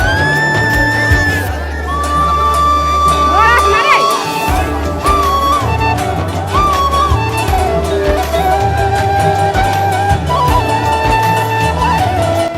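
A dense festival crowd at the Bishnupur Rath Yatra pulls the chariot amid continuous shouting and cheering voices, with sustained tonal singing or instrument notes layered on top throughout.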